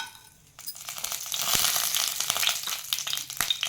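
Fennel seeds, cloves, a cinnamon piece and a cardamom pod hit hot oil with a sudden sizzle that settles into a steady, crackling fry, punctuated by a few sharp pops and spoon taps.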